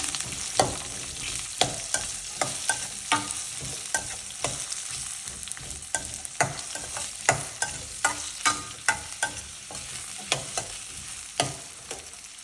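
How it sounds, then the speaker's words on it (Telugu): Onion, garlic and curry leaves fry in a pan with a steady background sizzle, punctuated by regular sharp scrapes and taps of a spoon stirring, close and fairly quiet. "ఆనియన్, తెల్లగడ్డ, అలాగే కరివేపాకు ఇది బాగా వేగనిద్దాం."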